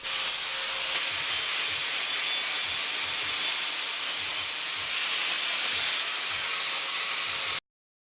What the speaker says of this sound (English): It took a while to grind 30 inches of aluminum blade into something that even remotely resembles a ground-edged weapon.